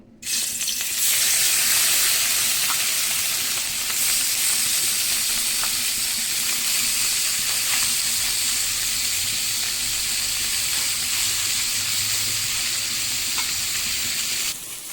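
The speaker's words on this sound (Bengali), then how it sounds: "কড়াইয়ে তেল গরম হয়ে গেছে, এবারে মাছগুলোকে দিয়ে দিচ্ছি" Small chuno fish frying in hot oil in a wok, a loud, continuous close hiss and crackle that starts abruptly as the fish go in and holds steady throughout.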